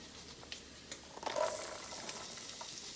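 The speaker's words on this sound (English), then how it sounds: "this is kind of frying up nicely now" Onion, garlic and ginger sizzle and crackle in a hot pan, a steady frying hiss with a brief louder burst of spitting partway through, heard up close.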